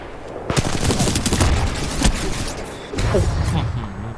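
Titanfall 2 multiplayer gunfire: rapid bursts of automatic weapon shots crackle loudly in quick succession, pausing briefly before another volley, with someone talking over the shooting.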